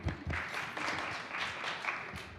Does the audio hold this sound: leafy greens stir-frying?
no